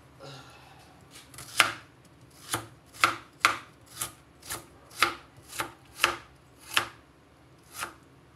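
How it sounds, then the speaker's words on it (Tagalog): Onions sliced with a knife on a board, about a dozen sharp, distinct cuts in a loose, fairly even rhythm, close and crisp against a quiet background with no speech. "Hiwain ko na po itong aking sibuyas"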